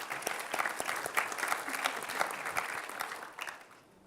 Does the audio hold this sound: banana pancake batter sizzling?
no